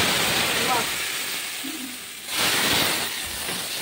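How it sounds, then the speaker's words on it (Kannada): A hot mustard-seed tempering is poured into a dish, giving a broad, hissing sizzle that fades and then flares again, with a faint voice in the background. "ಕಡೆಯದಾಗಿ ಒಗ್ಗರಣೆ ಹಾಕ್ತಾ ಇದ್ದೀನಿ"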